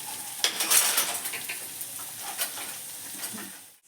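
Onions frying in a pan on a home stove, a steady close sizzle with scattered crackles and a few light stirring clinks of a utensil against the pan, fading out at the end.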